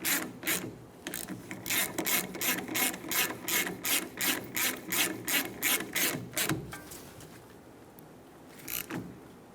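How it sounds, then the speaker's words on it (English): A ratchet snugs down the brake hose bolt on a rear caliper of a 2014–2018 Chevrolet Silverado 1500. A close, steady run of rhythmic clicks lasts about seven seconds, then a few faint handling sounds follow. "Install the brake hose into the caliper. Snug the bolt down."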